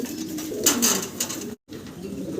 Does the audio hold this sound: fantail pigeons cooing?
yes